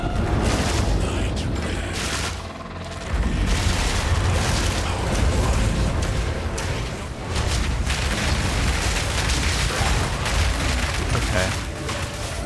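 Dense, continuous explosions from a grenade crossbow in the action RPG Path of Exile 2 burst loudly and overlap one another, forming a roaring barrage with one brief dip partway through.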